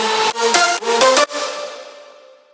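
A future house lead synth plays a melody, opening with quick stuttering chopped notes before a held, bright tone that rings out and slowly fades. No voices.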